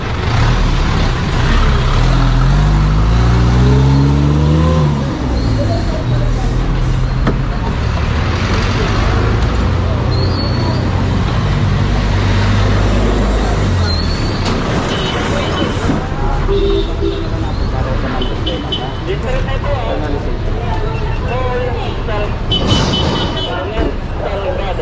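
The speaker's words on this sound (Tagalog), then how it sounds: "Ang daming motorsiklo dito at mga tricycle." Busy street traffic in the Philippines with motorcycles and tricycles, a steady engine rumble and passing vehicles, with someone talking over it throughout.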